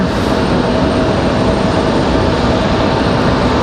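Airbus A321 XLR jet engines thunder at Raleigh-Durham International airport, a loud, even broadband roar held for several seconds, with no talking.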